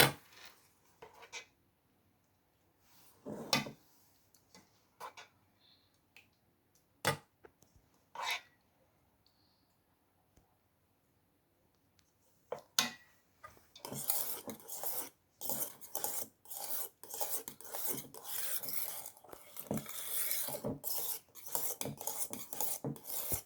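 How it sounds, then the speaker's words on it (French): A utensil gently stirring a frozen yogurt mixture in a bowl, making soft scraping and rubbing strokes. The strokes start sparse and intermittent, then become steady and continuous, close by. "Continuez de mélanger délicatement."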